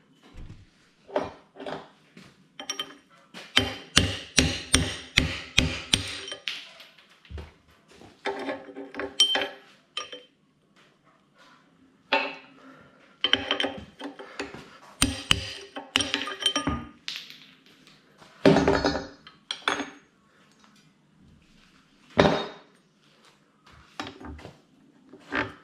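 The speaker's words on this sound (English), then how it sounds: "Then I'm going to hammer on this bit here, and those two will pop out." Bursts of repeated metallic hammer blows on a car U-joint to pop out its caps, rapid strikes in clusters separated by short pauses, close and sharp.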